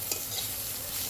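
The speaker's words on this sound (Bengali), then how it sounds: "এবার চিংড়ি মাছগুলো ভাজা হতে যা সুন্দর রংটা খুলছে" Shrimp frying in a pan as they are stirred, a close, steady hiss of oil with soft scraping of the utensil, brief and without talk.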